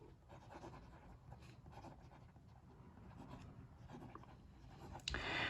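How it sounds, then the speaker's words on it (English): Lamy 2000 fountain pen in pine finish writing on paper, a soft continuous scratching of the nib heard close up, faint and steady throughout. "Let's do the writing."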